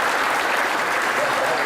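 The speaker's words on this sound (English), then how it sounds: "can we get one more round of applause for our very gracious sponsors?" Banquet audience applauding sponsors at a sports hall of fame induction event, a dense, steady wash of clapping from a large seated crowd filling the whole short moment.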